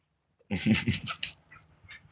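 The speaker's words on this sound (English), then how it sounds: "This is my dog, Shuck." A dog gives a brief burst of whimpering yips and breathy panting up close after a moment of silence, then the sound trails off into faint breathing.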